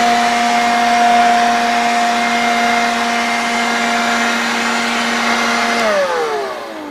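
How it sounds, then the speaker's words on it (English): A smaller electric leaf blower runs loud and close with a steady whining hum and rushing air, then spins down near the end as its pitch drops and the sound fades. "Okay, so here is my smaller blower."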